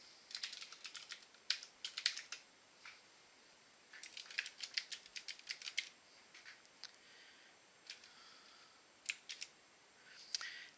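Java code being typed on a computer keyboard, with bursts of rapid clicky keystrokes separated by short pauses, close up and alone without talk.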